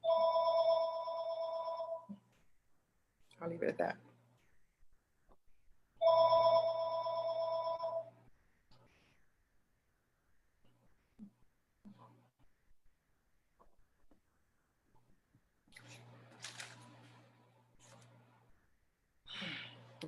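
An old-fashioned telephone bell rings loudly in two bursts of about two seconds each, with a quiet pause between them. A person speaks briefly in the gaps, softly and close by.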